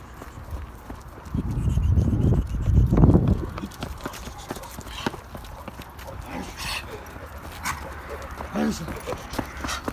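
A dog barks a few times at a distance amid outdoor noise, with hoof-like clopping and people talking early on.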